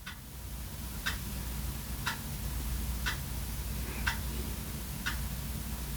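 A clock ticks once per second, six crisp, evenly spaced ticks sitting clearly above a steady low background hum, with no speech.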